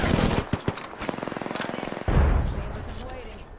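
Rapid video-game gunfire rattles in a steady automatic burst, then a heavier blast lands near the end, with a voice talking over the shooting.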